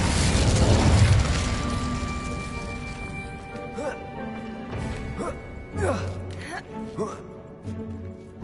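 Incendio fire spells cast in the Hogwarts Legacy video game, heard as several sharp whooshing bursts and crackling impacts after a loud opening blast, mixed with game music and effects.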